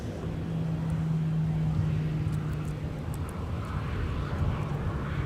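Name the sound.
Sun Country airliner arriving at Minneapolis–St. Paul Airport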